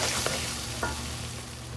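A cooked chickpea (chole) mixture sizzles quietly in a pan, with two brief scraping stirs over a soft steady frying hiss.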